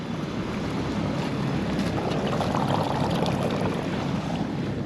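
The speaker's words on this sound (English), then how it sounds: "Water's flowing. It's coming from that culvert underneath the barns there." Broadband rushing water pours steadily from a culvert beneath farm barns into a flooded barley field, a continuous close wash with a slight swell in the middle.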